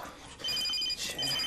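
A mobile phone ringtone plays in short, bright repeating electronic tones, fairly close and loud, with no one talking over it.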